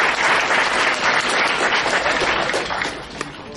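A convention panel audience at New York Comic Con breaks into loud, sustained applause, dense clapping from a large crowd that fades slightly near the end.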